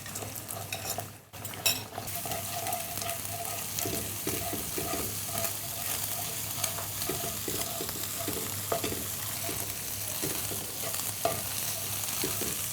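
Egg for mixed noodles fries in a pan over garlic with a dense, steady sizzle, broken by a brief gap early on and then by soft, repeated stirring scrapes.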